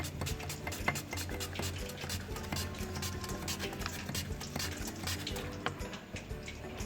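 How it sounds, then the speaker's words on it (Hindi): Peeled, washed potatoes being sliced with a handheld cutter for pakora chips, a steady run of quick crisp cuts and light clatter close by, with no talking. "अब इसको कटर के साथ काटते जाएं।"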